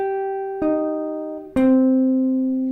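Two picked notes on a guitar, each played with the pick coming to rest on the next string, ringing clear and sustained one after the other with no voice.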